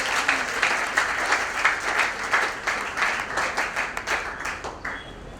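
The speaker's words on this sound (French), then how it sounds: "Acclamons très fort pour le Seigneur" Steady rhythmic applause from a congregation at a funeral service, bursts of clapping swelling and easing over several seconds, fairly close and filling the room with no talk over it.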